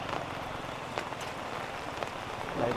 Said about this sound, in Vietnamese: Bởi vì là trời đang mưa nên là bà con cũng để đây luôn này.